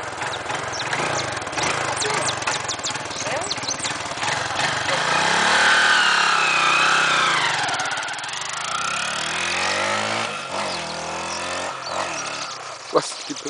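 A motorcycle engine runs steadily nearby, its buzzing drone rising into a brief revved swell midway before settling back, while people talk over it.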